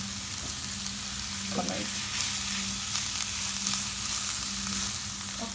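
Onions frying in a pan for Egyptian pasta with béchamel, a steady close sizzle with a few soft scrapes of stirring running throughout.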